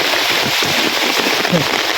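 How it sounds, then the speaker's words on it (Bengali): Heavy rain pours down in a village, a dense, steady hiss of drops with no letup. "প্রচুর পরিমাণে বৃষ্টি আরম্ভ হয়েছে"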